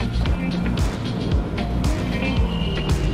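A car passes close by with a rough motor drone and brief swells, mixed with outdoor noise, loud and near over about three seconds.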